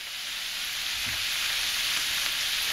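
Garlic sprinkled into a hot pan of bacon and cabbage for Taiwanese-style cabbage fries with an even, loud hiss that holds steady throughout, no voices over it.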